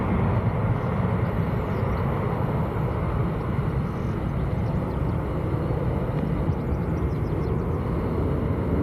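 A jet departing Manchester Airport from a later intersection after a long takeoff roll, a loud sustained broadband engine roar that holds steady throughout, heard from nearby with no talk.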